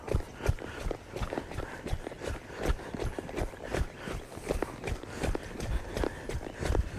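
Hooves beat in a quick, regular rhythm on the ground as a horse is ridden and steered during a warm-up, fairly close throughout with no talk.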